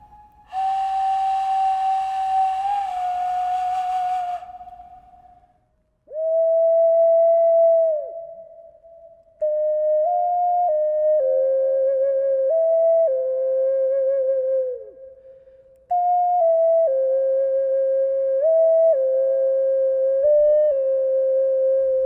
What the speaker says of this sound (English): This flute that I picked up at some antique shop, and an ocarina that I also found.